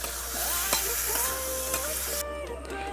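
Chicken being stirred in hot soybean and mustard oil in a kadai: a continuous close sizzle with scraping stirs, ending in a brief drop in the hiss.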